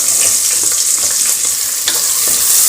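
Sliced onions hit hot oil and ghee in a pan for biryani, a loud, close, continuous sizzle with hissing crackle and occasional stirring scrapes, no voices.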